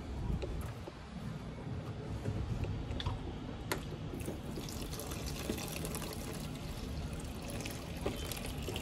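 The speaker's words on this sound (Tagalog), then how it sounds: "Lagyan natin ng tubig" Mineral water pours steadily into a cooking pot with sugar for several seconds with a continuous splashing rush, accompanied by a few faint ticks and clinks.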